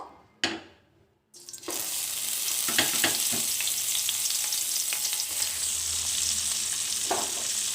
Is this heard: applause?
no